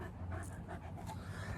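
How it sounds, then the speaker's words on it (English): A big dog panting close by in quick rhythmic breaths, soft and steady, at a fairly low level. "big dog"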